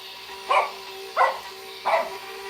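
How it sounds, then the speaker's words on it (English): A dog barks three times at a steady pace, a bit distant and muffled, over a low constant hum. "Any noise that he might hear, he might bark"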